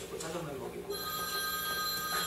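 A telephone rings indoors during a church pastors' Bible seminar, a sustained electronic ringing tone that starts partway in and rises over murmuring talk and room noise.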